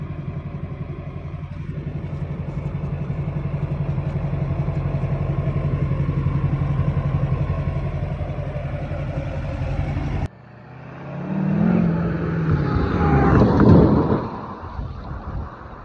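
An LBZ diesel drift truck fitted with a 9.5-inch 12-bolt rear axle drones steadily from inside the cab, then the sound cuts to a rougher, louder outside pass with rumbling and clattering.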